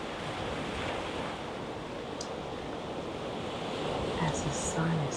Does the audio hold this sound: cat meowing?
no